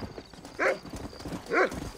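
Horse hooves clip-clopping in the video game Red Dead Redemption, two separate clacking hoofbeats about a second apart, close and fairly clear over a low background.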